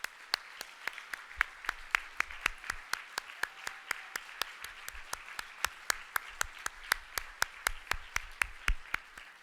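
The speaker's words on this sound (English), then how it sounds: "let's applaud them again" An audience at an award ceremony honoring organ-donation partners claps for the honorees, sharp claps landing in a steady, fairly even beat throughout, moderately loud and close, with no voices over them.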